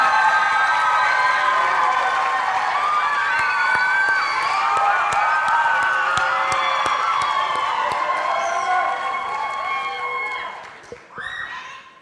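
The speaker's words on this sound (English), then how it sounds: "Let's give them another round of applause, ladies and gentlemen" A pageant audience at the Miss Auburn and Miss Auburn's Outstanding Teen scholarship program gives sustained applause mixed with cheers and shouts, loud and dense throughout, fading near the end.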